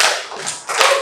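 A class claps together in rhythm during a teacher-led clapping exercise in a classroom, giving a few sharp, loud, close claps in quick succession.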